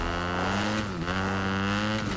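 A motorcycle engine in the Fortnite video game revs with a buzzing, wavering drone that rises and dips over a couple of seconds, fairly faint and alone.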